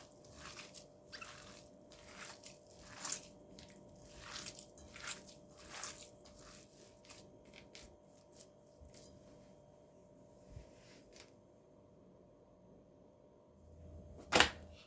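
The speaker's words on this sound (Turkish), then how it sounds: "Hepsini güzelce yoğuralım" Hands kneading a beyti kebab meat mixture with garlic, parsley, salt and chili flakes, making soft, wet squishing and slapping sounds in an irregular rhythm, then a quieter stretch and a sharper knock near the end.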